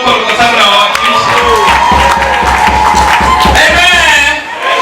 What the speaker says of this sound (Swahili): Wapigia makofi Wanyaukolo kwa sababu na wawakilisha